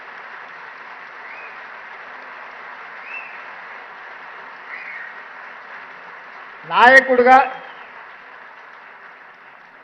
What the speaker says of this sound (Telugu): పెద్ద ఎత్తున మీరు చప్పట్లతోని వారిని అభినందించండి